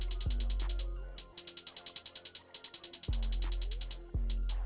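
Rapid bright hi-hat rolls tick in fast repeating bursts within an FL Studio beat, joined by deep booming bass hits and occasional gaps, crisp and close with no voices.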